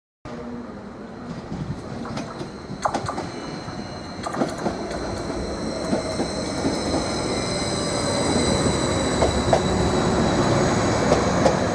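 A Class 755 train running through Ely station, a steady rail rumble with rhythmic wheel clicks and faint squeal, growing slightly louder as it passes, with no voices.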